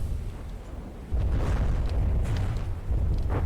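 Missile impacts exploding on an enemy base in the game From the Depths: a continuous low rumbling roar of detonations, swelling louder after the first second with scattered crackling bursts layered on top.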